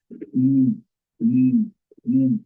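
A human voice imitates a pigeon's coo, making three low, rounded hums with the lips closed, each lasting about half a second and separated by short pauses.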